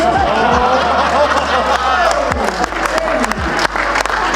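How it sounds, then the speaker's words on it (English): Audience at a Clerks comedy panel at the Huntsville Comic & Pop Culture Expo 2023 applauding, a loud sustained wash of clapping and crowd noise filling the room throughout. "I did get applause, though."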